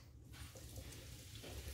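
Coca-Cola pouring steadily over a beef pot roast in a cooking pot, a continuous close liquid splash with no talk over it.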